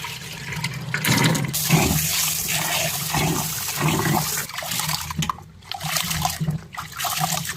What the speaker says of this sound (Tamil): கூட ரெண்டு தண்ணி ஊற்றி கழுவணும்